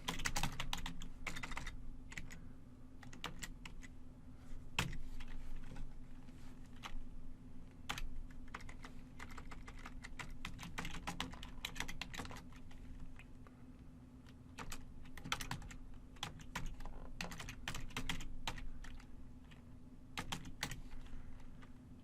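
Steady typing on a computer keyboard fills a long stretch, with quick irregular keystrokes and occasional sharper taps as commands are entered, over a low constant hum.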